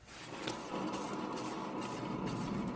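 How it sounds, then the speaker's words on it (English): A worn wheel bearing on a Toyota Altezza grinds and whirs as the wheel spins, with brake rotors scraping, a steady close rasping hum that builds in and holds, no talk. "if you listen carefully in comparison, you hear the noise of the wheel bearing"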